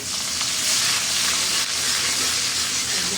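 Onions frying in hot oil for khuder bhaat, a steady loud sizzle with a bright hissing texture that holds evenly throughout, close up and without voices.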